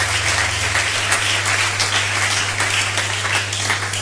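A church congregation applauds to acclaim the Lord with dense, steady clapping that lasts the whole moment, over a constant low hum.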